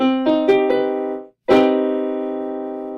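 Four quick piano notes of a minor major seventh chord rise in succession, then after a brief gap all four are struck together as a dense, dissonant, sustained chord that fades slowly.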